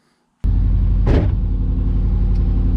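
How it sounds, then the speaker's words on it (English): Engine of a Mazda RX RS car starting up and settling into a steady, loud idle rumble with a brief rev just after it catches, heard close with no talk. "car is back up and running"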